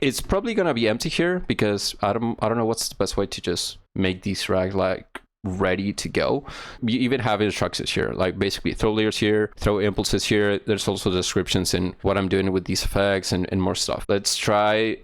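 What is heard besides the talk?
No everyday noise stands out behind the speech.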